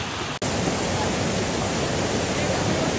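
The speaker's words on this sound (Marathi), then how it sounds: "this is the waterfall Vasundhara waterfall" Vasundhara waterfall pours in a loud, dense, unbroken roar heard close at night on a trek, with only a momentary dropout near the start.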